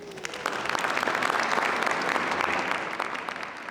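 An audience in a castle hall applauds steadily and warmly as dancers enter, a dense patter of many clapping hands.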